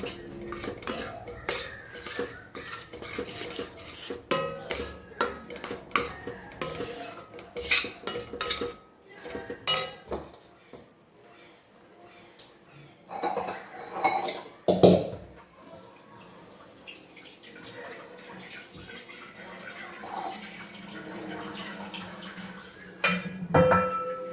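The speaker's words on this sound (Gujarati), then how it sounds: "છૂટું પડે ને સેજ ચણા લોટ લાલ થાય નહીં ત્યાં સુધી આપણે એને સરસ મજાનું શેકી લઈએ" A utensil clatters and scrapes steadily against a pan while gram flour is roasted and stirred, a busy run of metallic scraping and knocks up close that eases off midway, then returns more sparsely with a light liquid trickle.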